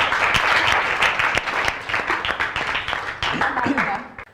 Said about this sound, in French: n'applaudis très fort pour toi